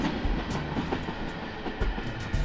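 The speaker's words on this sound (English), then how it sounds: "Leading was UP 5972 and ES44C4 of this mixed manifest. The train was heading north" A northbound mixed manifest freight train led by Union Pacific ES44C4 locomotive 5972 rumbles past close by in Fort Worth, Texas, with steady rolling roar and rhythmic clickety-clack of wheels over rail joints.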